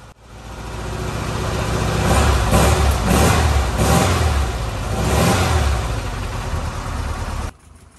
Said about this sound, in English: turning the key and listening to that engine run.